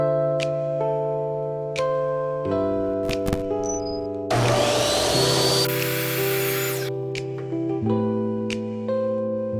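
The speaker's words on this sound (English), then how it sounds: "Now since I have a miter saw, I'm just going to use that" A miter saw spins up and cuts through a piece of wood, giving a loud, broadband burst of about two seconds in the middle. Motor whine and short knocks come before and after the cut.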